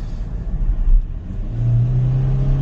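A Hyundai Venue in sport mode accelerates from the cabin, its engine rumble swelling into a steady, louder drone in the second half with no talk over it.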